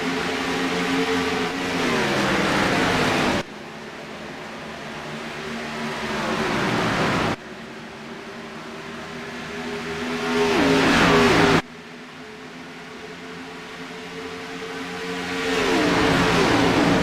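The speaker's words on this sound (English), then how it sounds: "we'll keep our mouths shut and let you enjoy the sound of his engines" Race car engines roaring and accelerating at the start of an ANZCAR Cup race in Texas, heard in several loud sweeping bursts as cars pass close by, with no commentary.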